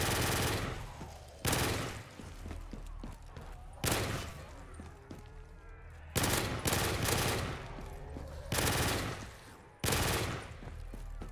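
P90 gunfire in Call of Duty Zombies comes in loud, rapid automatic bursts separated by short pauses, close and dominant over the game's background noise.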